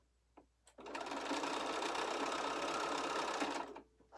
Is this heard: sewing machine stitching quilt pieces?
yes